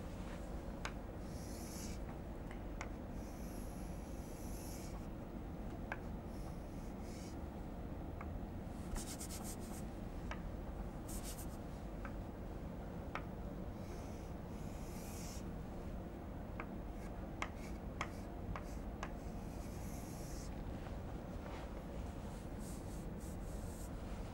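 Marker or chalk scratching across a board as a sketch of a convergent-divergent nozzle is drawn, steady faint rubbing strokes with occasional taps over a constant background hiss, with no talking.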